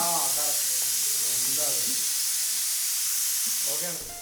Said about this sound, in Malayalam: ഇതേ കുക്കർ ഒച്ചയൊക്കെ ഇട്ട് തുടങ്ങി